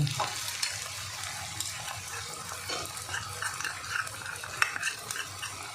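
Onion, garlic and ginger masala is stirred and fried in a pan, giving a continuous close scraping and sizzling with small utensil clinks throughout.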